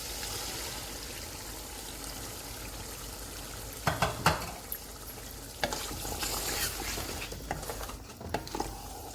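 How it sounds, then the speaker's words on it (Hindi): Mutton sizzles steadily in a hot karahi, with a few sharper splashes and stirring scrapes as whisked yogurt is added midway. "अब इसमें मैं दही डालने लगी हूँ"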